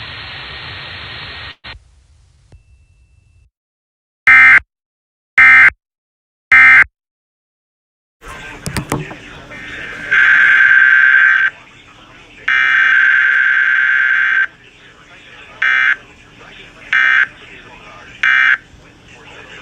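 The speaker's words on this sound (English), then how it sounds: "This has been a test of the emergency alert system." A radio Emergency Alert System test: static, then three short loud digital header bursts, followed by a long, steady, harsh alarm tone and more short bursts over hissy broadcast noise.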